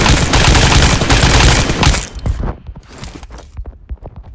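Rapid PUBG gunfire, a dense burst of loud automatic shots for about two seconds, then scattered single shots and short bursts trailing off at a slightly lower level.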